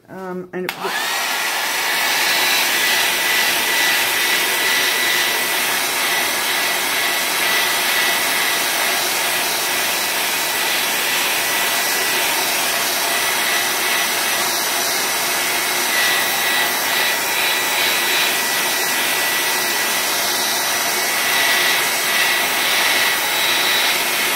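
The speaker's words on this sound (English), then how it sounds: "Let's use the hairdryer." A hair dryer whirs loudly and continuously at close range, a steady airy roar holding for the whole stretch.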